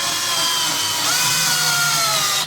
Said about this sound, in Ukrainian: Дивіться, як заганяє гвинти.